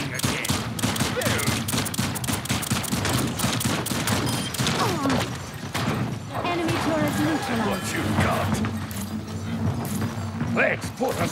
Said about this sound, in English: Enemy turret here